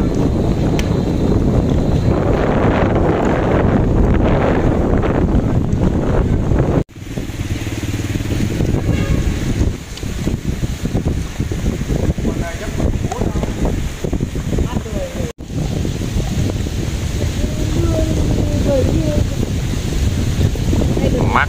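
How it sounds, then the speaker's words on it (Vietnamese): Steady wind gusts rushing across the microphone on a riverbank of the Đăk Bla river as rain begins, a continuous loud roar with brief dropouts and no speech. "Hơi gió nữa."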